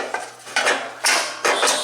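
Metal guard plate clinks and scrapes as it is fitted onto the spindle of a Gravely zero-turn mower, several sharp metallic knocks close by, with no talking.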